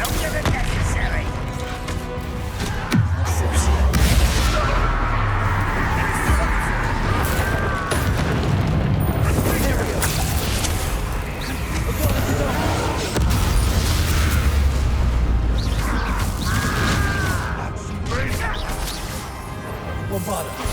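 Bombarda spell blasts in the video game Hogwarts Legacy, loud crashing booms and impacts in the middle of dense combat noise, repeated across the fight, with speech and music underneath.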